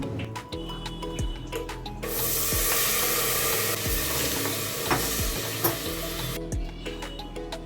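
Onion paste frying in a pan for a chicken roast, with a bright continuous sizzle and repeated scraping stirs of a spatula, the hiss swelling louder midway and easing again near the end, no talking.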